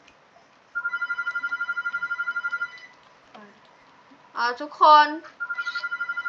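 A mobile phone rings inside a video game with a steady pulsed electronic ringtone. A voice breaks in and talks over a brief gap before the ring resumes.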